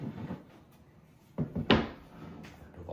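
A VEVOR pull-out kitchen cabinet drawer is handled and flipped over, giving a couple of close hollow knocks and a sharp woody clunk, with quiet rustling between them and no talk.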